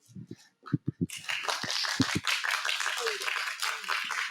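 At a digital transformation conference, a few scattered claps build into sustained audience applause, with voices mixed in.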